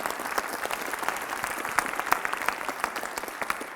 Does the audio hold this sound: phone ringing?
no